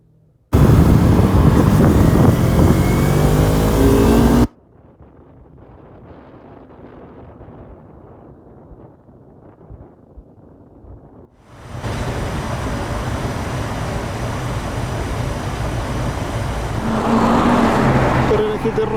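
Red Porsche Carrera GT fitted with an FVD exhaust, driving past loudly in a short blast, then quieter wind and ambient noise, followed by a sustained engine roar with voices talking.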